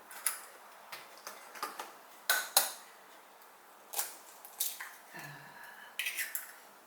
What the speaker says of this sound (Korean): 계란 4개를 까서 넣고